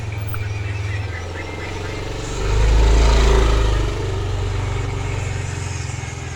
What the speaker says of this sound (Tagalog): Tabi, tabi, may motor!